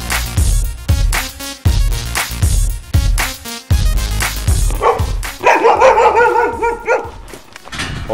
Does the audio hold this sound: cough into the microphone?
no